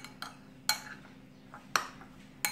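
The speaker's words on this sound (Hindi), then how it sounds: "प्याज ऐड कर रही हूँ और ये टोमेटोज़ ये ऐड करके इसे मैं मिक्स कर दूँगी" A spoon scrapes and clinks against a bowl while chopped onions, tomatoes and green chilies are mixed into a tomato salsa. Four sharp, fairly close clinks come at irregular intervals over a quiet background.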